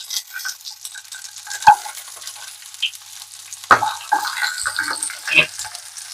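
Ingredients frying in a pan for a peanut chutney give a steady close sizzle and hiss, broken by several sharp scrapes and knocks of stirring, with no talking over it.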